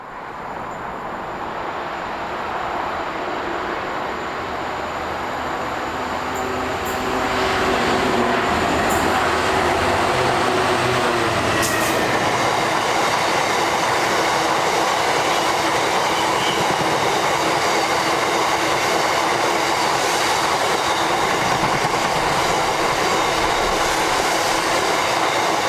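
A freight train, such as a cement working to or from Bletchley Cement Works, passes through Ridgmont railway station, its steady rumble and roar swelling after a few seconds and staying loud and close to the end.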